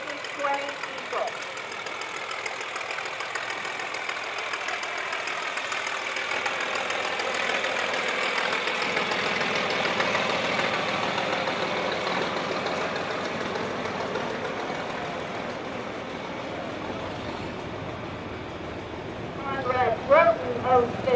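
A 1972 John Deere 5020 diesel tractor passing in an antique machinery parade: its engine drones and rumbles steadily, swelling and fading as it goes by, with an announcer talking over it.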